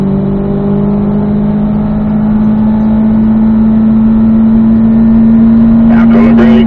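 A race car on track, its engine holding a loud, steady drone as the driver downshifts to third gear, with a coach's voice cutting in near the end.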